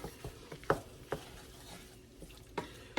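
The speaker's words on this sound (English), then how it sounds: "I'm just going to sprinkle on some flour. Going to give it a mix to see if that coats everything." Flour being mixed into sausage grease in a pan: quiet scraping and stirring with a handful of sharp spatula taps against the pan over a faint background sizzle.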